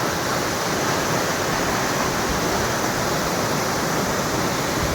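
Steady, loud roar of a waterfall in the Sahyadri hills beside a fort and wildlife sanctuary, a dense unbroken rush of falling water with no break or voice.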